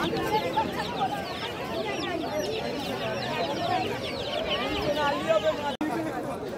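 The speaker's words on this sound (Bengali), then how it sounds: "দেখো এখানে মুরগি আর ছোট ছোট বাচ্চা বিক্রি হচ্ছিল" Dense chatter of many chickens and chicks clucking and peeping together at Galiff Street market, busy and continuous, with a crowd murmuring in the background.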